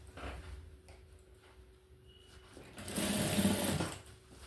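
A sewing machine stitches fabric in a short, fairly loud whirring run after a quieter stretch of small handling clicks and shifting, heard close with no talking over it.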